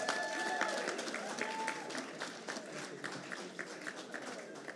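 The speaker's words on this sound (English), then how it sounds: "Can you give a round of applause" An audience claps steadily, a dense patter of many hands applauding together at moderate volume, fading slightly toward the end.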